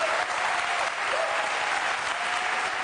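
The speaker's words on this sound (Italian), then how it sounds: "Pensavo fossero applausi." Studio audience applauding on an Italian television show, a steady dense wash of clapping that fills the whole stretch at close, even loudness, with a faint voice briefly surfacing beneath it.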